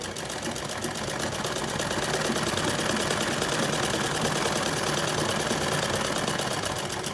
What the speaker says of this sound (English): I am placing it back under the sewing machine and I'm going to stitch it again